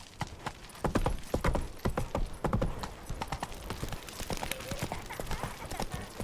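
Hooves of Roach, Geralt's horse in The Witcher 3, clip-clop in a steady, brisk rhythm, close and clear over game ambience, with a brief snort mixed in.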